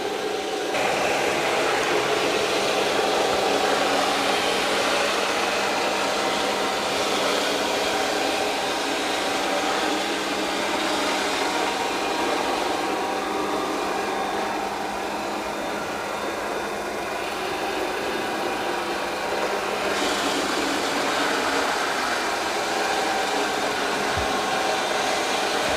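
An ECOVACS DEEBOT T30S robot vacuum works its way across a carpet, giving off a steady, close whirring drone with a faint hum beneath, broadly even throughout with a slight change in tone partway through.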